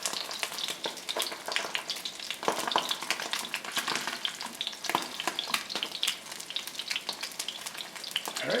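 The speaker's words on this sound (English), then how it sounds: "Want to be able to sizzle that skin real good" Bronzini fish skin frying in a hot pan, a dense steady crackle and sizzle with scattered pops throughout, close and alone.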